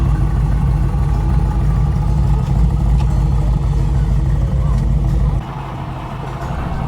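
A truck engine labors and revs in the woods while pulling another vehicle, a loud, continuous low rumble that holds steady, then drops in level near the end.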